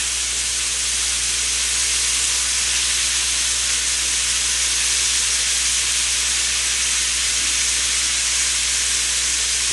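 Duck breast searing in butter in a skillet gives a loud, constant, even sizzle and hiss with no breaks, close and steady throughout.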